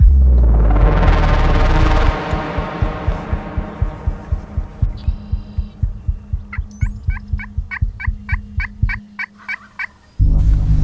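A wild turkey gobbles during a spring hunt on eastern Washington public land, with a loud, close rolling call at the start followed by a long run of rhythmic low thumps and then brief faint chirps.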